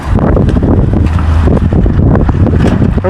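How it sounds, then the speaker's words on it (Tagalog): Gusty wind buffets a microphone outdoors on a patio, a loud, constant low rumble of wind noise for a few seconds with no clear voices over it. "Ang hangin."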